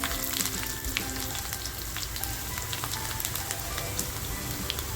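Mustard seeds, garlic and red chillies sizzle in hot oil with a dense, close, continuous frying hiss and scattered sharp pops and crackles throughout, with no voices.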